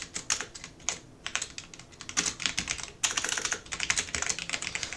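Fingers clatter on a computer keyboard in a steady burst of rapid keystrokes, with brief pauses and a flurry of repeated key mashing, close and fairly quiet with no talking.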